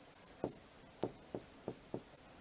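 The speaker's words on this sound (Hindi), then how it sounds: "चलो यहाँ लिखता हूँ, लीलटास।" Handwriting during a Hindi literature lesson comes through as about six short, crisp strokes in an uneven rhythm, close and clear with brief pauses between them.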